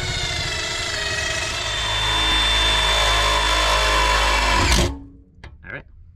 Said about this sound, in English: We're gonna start drilling and mounting all our transformers.